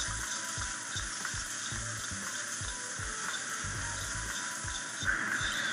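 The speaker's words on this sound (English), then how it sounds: "And now you're going to add the garlic. And give it another stir." Garlic sizzling steadily in a hot wok during a lobster stir fry, a constant fizzing hiss with soft irregular stirring knocks underneath, moderately quiet and close.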